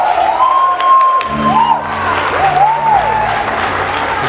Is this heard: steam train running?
no